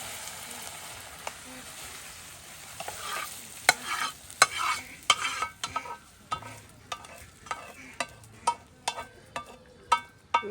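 Tempering for khichuri stirred in a hot pan, with a steady sizzle and frying crackle under a run of sharp scraping stir strokes that quicken and grow louder toward the end.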